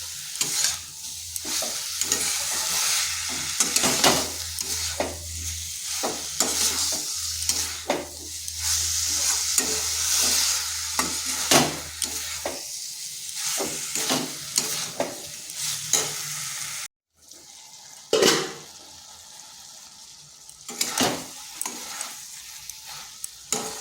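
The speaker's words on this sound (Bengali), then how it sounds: "এই ভাজা মশলার সাথে বেশ কিছুক্ষণ এইভাবে কষে নিতে হবে" Pumpkin being stir-fried with a roasted spice mix in an uncovered pan, with continuous sizzling and frequent sharp scraping strokes of a spatula, and a brief pause near the end.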